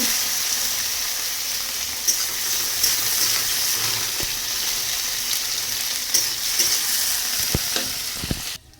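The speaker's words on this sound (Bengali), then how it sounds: "পেঁয়াজটা হালকা করে ভেজে নেব।" Onion frying lightly in a pan, a continuous close sizzle broken by occasional stirring scrapes and clicks, ending abruptly.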